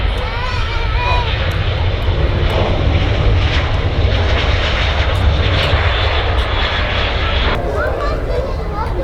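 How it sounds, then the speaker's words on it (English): A Ryanair jet departs Manchester Airport with a loud, continuous engine roar that stays strong and steady throughout, with faint crowd babble underneath. "Now we've got a Ryanair departure."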